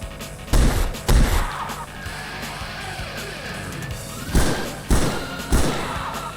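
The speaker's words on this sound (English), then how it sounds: "A total of 3 shots from the body and 2 shots from the head with a Mauser pistol" Five Mauser pistol shots in the Roblox game Dead Rails, heavy muffled thuds in two groups, two close together early and three more a few seconds later, over a steady low background hum.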